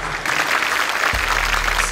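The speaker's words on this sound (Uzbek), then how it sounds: "shod guruhiga guldiroz qarsagiylar marhamat" Steady, dense applause from a theater audience greeting the Shod group on stage at an Uzbek comedy show, continuous clapping throughout with a low hum underneath.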